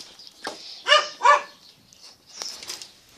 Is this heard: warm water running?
no